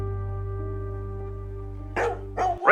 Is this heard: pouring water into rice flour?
no